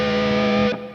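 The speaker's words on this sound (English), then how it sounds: "So the 2 lines together would sound like this." Two distorted electric guitars hold a sustained diatonic-thirds harmony, a bright chord ringing loud and steady before dropping away near the end.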